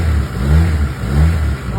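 A Honda Civic LXi with an automatic transmission revs up close by in two rising and falling swells, a throaty engine note pulsing over a steady idle.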